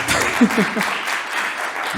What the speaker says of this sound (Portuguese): Merece palmas, não?